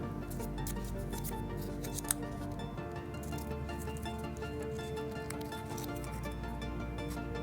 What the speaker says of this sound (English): So we can fold this in half, and we can cut both sides at the same time.